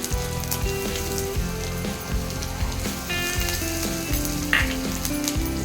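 Cumin seeds crackle in hot oil with a loud, close, continuous sizzle broken by frequent small pops and spits. No one speaks.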